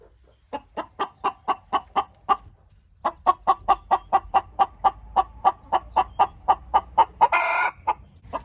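Rhythmic, evenly spaced clucks from old hens in a henhouse repeat close by, over a dozen in a row with a short pause, ending in a louder squawk.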